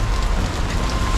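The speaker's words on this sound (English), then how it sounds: "As you can see, it's pouring with rain." Heavy black-rainstorm rain pours down on a Hong Kong street, a dense, loud, continuous hiss with no voices.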